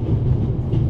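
Steady low rumble of a moving train carriage in the video game The Raven Remastered, a continuous rolling drone with faint rhythmic wheel texture, close and even throughout.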